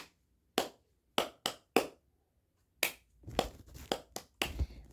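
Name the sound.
hand claps imitating a sequence of ghostly claps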